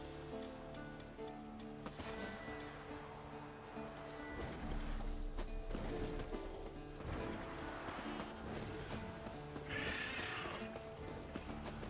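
A horse in a video game whinnies and its hooves clip-clop amid ticking and other game sounds, moderately quiet and continuous with no voices.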